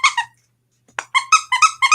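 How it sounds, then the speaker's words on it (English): A squeaky plush dog toy is squeezed repeatedly: two quick squeaks, a pause, then a run of six or seven sharp, loud squeaks in a fast rhythm, close and alone. "You know how they love this squeak."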